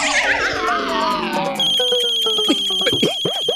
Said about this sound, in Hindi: बाबूजी फोन आ रहा है